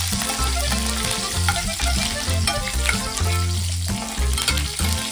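Curry leaves drop into hot oil already holding fenugreek seeds and broken Kashmiri chillies for a restaurant-style sambar tempering, and the oil gives a loud, dense, continuous sizzle and crackle close by.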